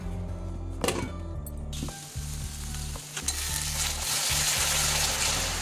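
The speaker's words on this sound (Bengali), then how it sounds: "এটা ভালো করে কষে নিতে হবে যতক্ষণ এর থেকে তেল ছাড়ছে।" Spices with turmeric frying in oil in a pan, a steady loud sizzle that runs through with scraping stir strokes and clatter of a utensil, no voices.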